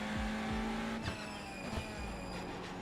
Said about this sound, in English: listen to those brakes squeal on that thing